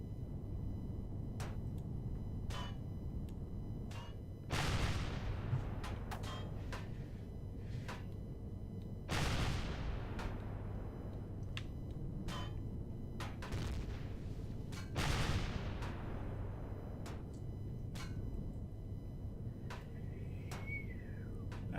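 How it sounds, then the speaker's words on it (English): Green laser shots in a video game come as a run of sharp zapping blasts, a few heavier bursts standing out among many quicker snaps, fairly loud and continuous with no talking. "That's a lot of green laser shots."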